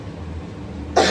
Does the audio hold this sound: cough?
yes